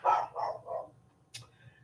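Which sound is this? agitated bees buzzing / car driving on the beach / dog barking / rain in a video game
dog barking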